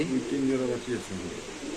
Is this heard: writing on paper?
no